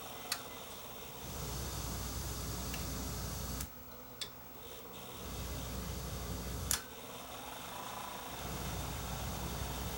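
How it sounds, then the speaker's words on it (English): The motor of a Sony TC854-4 reel-to-reel tape deck runs with a faint, steady whirring drone, broken by a few sharp ticking clicks. "this is making a lot of noise. Listen how loud that motor is."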